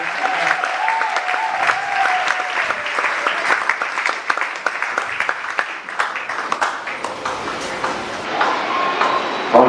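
A church congregation at a Sunday service applauds, a dense, continuous round of clapping from a full room that holds steady throughout.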